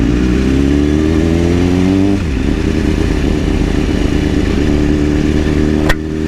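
A 2010 BMW S1000RR sport bike engine revs hard at close range, its pitch climbing and then dropping back to a rough, throbbing idle, with a brief sharp click near the end.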